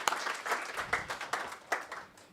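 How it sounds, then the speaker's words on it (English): A hackathon presentation audience claps in a short burst, individual hand claps distinct and uneven, loudest at the start and gradually tapering off as the round ends. "one more round of applause, please, for this family."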